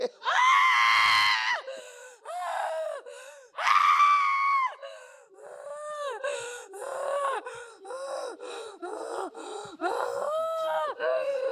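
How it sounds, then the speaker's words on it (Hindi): A man screams loudly and repeatedly, close up, in long strained wailing cries broken by gasps and shorter yelps, during a confrontation with an aghori before a wrestling bout. "अरे कितना चिल्लाता है यार।"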